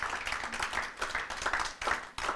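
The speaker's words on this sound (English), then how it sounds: "Let's give them a round of applause for coming out to vote." Scattered clapping from a small crowd, uneven and moderately loud, building in bursts without any talking.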